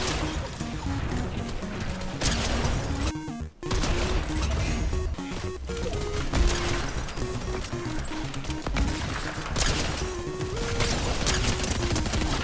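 Weapons in the video game Fortnite fire in dense, rapid, overlapping bursts with crashing impacts, loud and nearly continuous apart from one brief dip.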